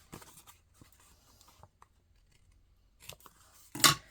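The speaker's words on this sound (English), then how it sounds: "I know it goes edge to edge when I can just come in and snip it off" Scissors snip off an excess paper edge in a quiet room: a few faint cuts and rustles, then one crisp, louder snip near the end.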